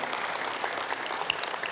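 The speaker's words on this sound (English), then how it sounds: "I clap back at you." Dense applause from a crowd at an event on climate drawdown, a continuous, even wash of many hands clapping at moderate distance with no voices on top.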